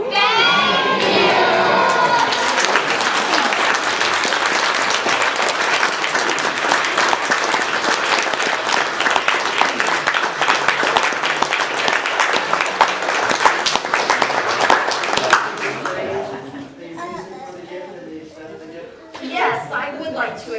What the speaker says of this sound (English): I want you to scream thank you as loud as you can to Bonnie and Donald. Ready, set, thank you